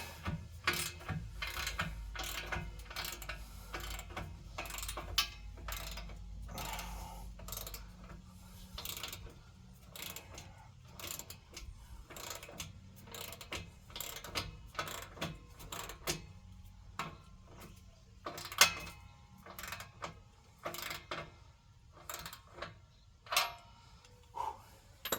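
Ratchet wrench works a tight transmission bolt loose under a vehicle, producing irregular bursts of quick metallic clicks with pauses and scrapes between them, close and fairly quiet.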